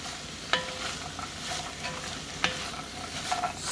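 Drained beans being stirred in a cooking pot with ham, a few soft scraping clicks of the spoon against the pot over a low background hiss, no talking.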